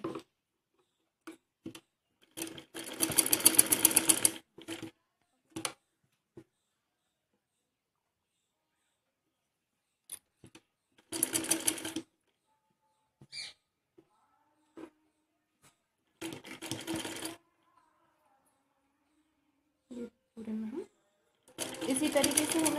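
A sewing machine stitches the side seam of a fancy top in short separate bursts of loud, rapid mechanical whirring with quiet pauses between them, close by and alone.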